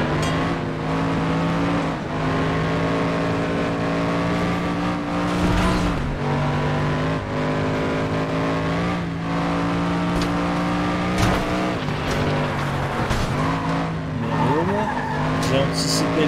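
Race car engine droning steadily throughout FlatOut 2 driving, with tire squeals and skids breaking in around the middle and near the end, loud and close, with talk over it.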